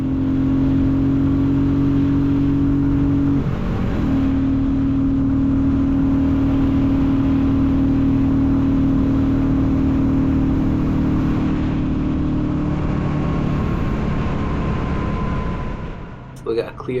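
A Royal Enfield Classic 350 motorcycle engine pulls steadily and loud for a long stretch as the bike is opened up on a road, a sustained hum with a shift in pitch early on, before easing off at the end.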